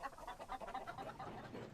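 Chickens being hauled to a farm cluck in a short, busy burst of overlapping bird calls, close and moderately loud, with a low rumble beneath.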